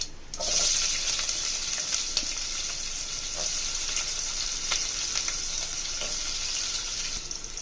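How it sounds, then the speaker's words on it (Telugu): Steady, loud sizzling of onions frying in hot oil with tempering seeds for egg curry, with light scraping and stirring clicks scattered through it. "ఆనియన్ యాడ్ చేసుకొని ఆయిల్లో బాగా మగ్గేలా కలుపుకోవాలి"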